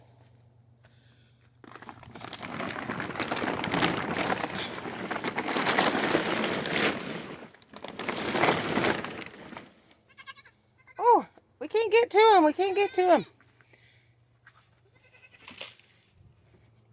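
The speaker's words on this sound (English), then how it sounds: "Baby goats are yelling at me." Loud crinkling and rustling, then a few high, wavering goat bleats close by, with people talking in between.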